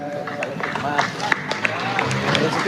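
An audience at a Hari Santri gathering in Ponorogo claps amid crowd chatter and voices, the clapping mixed into a busy, fairly loud hubbub with sharper hand-claps standing out.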